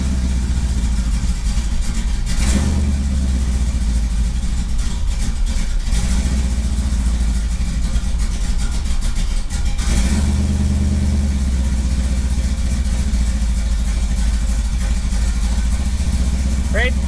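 A car engine, just cleared of a vacuum leak, idles and revs up a few times in short bursts, with a person speaking over the running engine.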